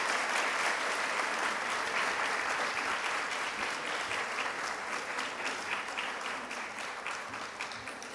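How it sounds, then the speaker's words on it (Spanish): A congress audience applauds steadily and fairly loudly, a dense wash of many hands clapping for the full stretch and tapering slightly toward the end. "pedimos un fuerte aplauso"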